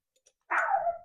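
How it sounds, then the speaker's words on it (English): Two dogs give one short, fairly loud bark-like yelp that trails off, reacting to something outside, heard indoors and alone after a near-silent start. "sorry guys, if you heard barking"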